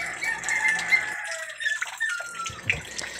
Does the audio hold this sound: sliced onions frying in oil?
no